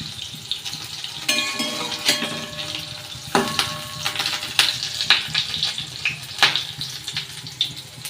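Soya pakoras fry in hot oil, producing a bubbling sizzle with irregular sharp crackles and pops, and a few louder spatters spaced through the sound.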